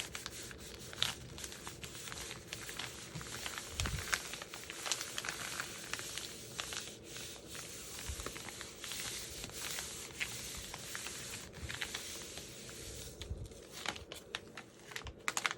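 Thin copy paper pressed firmly by hand onto wet paint on a gel printing plate, a steady close-up rubbing and crinkling with faint taps throughout, with no talking.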